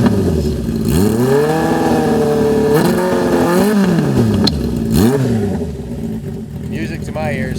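A 1975 Honda CB400F motorcycle engine revs up and down repeatedly, rising and falling in pitch, with a rough mechanical rumble and a voice speaking faintly underneath near the end.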